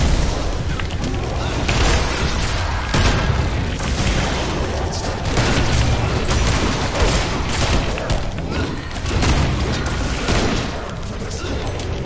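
Dense, loud gunfire and booming blasts fill a match of Evil Dead: The Game, with continuous overlapping shots and explosions throughout and a voice speaking faintly beneath.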